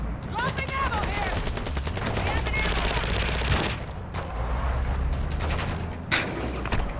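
Dense automatic gunfire rattles almost nonstop in an online military shooter match, with bursts, thuds and distant shots layered together, loud and close.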